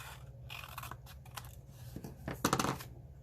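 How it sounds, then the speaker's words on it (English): Scissors or a paper trimmer cut away the corners of a pop-up hen house card, giving several short crisp snips and rustles, with louder cutting near the end and no talking. "either using your trimmer or your scissors, trim these off"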